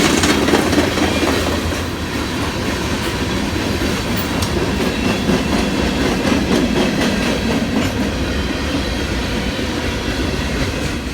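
A Union Pacific mainline freight train led by locomotive UP 5387 rolls past close by, a loud continuous rumble with rhythmic clickety-clack of wheels over rail joints and faint metallic squeal.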